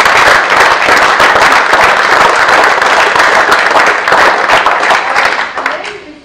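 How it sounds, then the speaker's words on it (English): A large audience at a Durban celebration event breaks into loud, sustained applause and clapping that holds steady before tapering off at the end, with some voices mixed in. "So I think we should give them another big round of applause."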